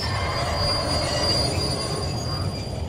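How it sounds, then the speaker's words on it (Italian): Train wheels squealing as a train slows down in the video game Crysis Warhead, a steady, loud metallic screech with high whining tones over a continuous low rumble of rolling cars. "Il treno sta rallentando."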